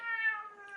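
A pet cat lets out a single drawn-out meow, clear and close, with a steady tonal cry that sags slightly in pitch toward its end, alone without talk.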